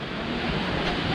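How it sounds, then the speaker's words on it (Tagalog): Steady, loud roar of crashing surf with wind buffeting the microphone, continuous and close, with no voices. "malakas ang alon bro. Malakas ang hangin."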